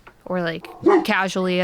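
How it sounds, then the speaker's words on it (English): A few short dog barks and yips break in around a woman's speech, close and fairly loud in an indoor room. "Excuse my dogs."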